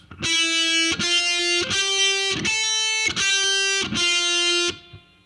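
Distorted heavy metal electric guitar plays a short phrase of six sustained, buzzing notes, each split by a sharp picked attack, sounding loud and close before ringing out.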